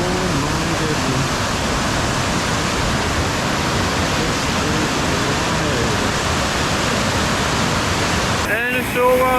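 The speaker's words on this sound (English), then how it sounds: "we get to the waterfall. Oh my goodness. It is raging." The raging waterfall at Hopewell Rocks on the Bay of Fundy roars as a loud, steady wash of rushing water, broad and unbroken, with a brief shift near the end.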